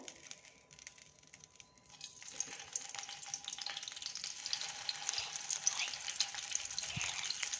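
Masala fries in a little oil in a pan, starting as a soft sizzle and swelling into a steady, close crackling hiss with occasional stirring, and no one speaks.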